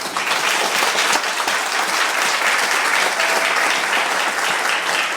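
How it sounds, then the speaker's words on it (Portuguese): A congregation at a women's church service breaks into dense, sustained applause, a thick continuous roar of clapping filling the room evenly for about five seconds. "Dê uma salva de palmas, Jesus"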